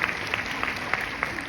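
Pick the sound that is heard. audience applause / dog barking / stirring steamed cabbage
audience applause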